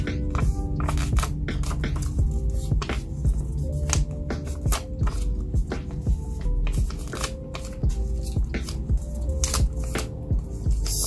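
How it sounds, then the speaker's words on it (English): Paper being folded for a kids' paper butterfly craft gives a quick series of close, crisp crinkles and creases, with a soft musical backing throughout. "you're going to fold it in half again, like this"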